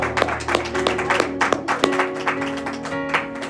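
A church congregation claps together after a call to applaud God, the claps dense and fairly loud, mixed with sustained organ or keyboard tones and faint voices beneath.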